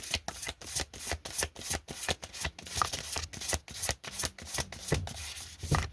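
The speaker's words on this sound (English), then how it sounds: "I guess I could have shuffled it." Tarot cards are shuffled in a rapid run of crisp riffles and flicks, close and fairly loud, repeating in quick bursts with short pauses between.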